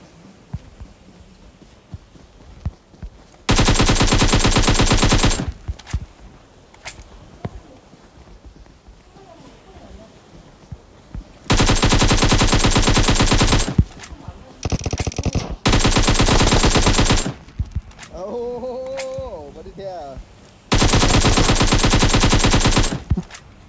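AKM rifle fire in a video game, four long sustained bursts of rapid automatic shots, loud and close, with quieter game sounds and a voice between the bursts.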